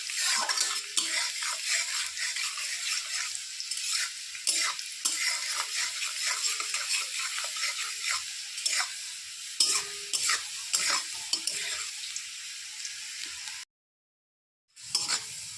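Garlic fries in a pan while a spatula stirs it, with repeated metallic scrapes and clinks over a soft sizzle, close by, ending in a brief silent gap; no talking.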